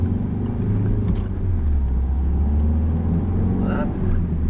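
A car pulls away briskly from a stop during a driving lesson, its engine rumbling low and steady from inside the cabin, with a brief voice partway through.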